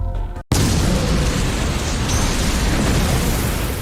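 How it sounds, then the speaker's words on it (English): Anime fight scene suicide explosion, a sudden massive blast after a brief cutout, then a sustained roaring rumble that stays loud and dense to the end. "Netero wasn't defeated with Kings of N, but he lost the battle with Suicide Explosion"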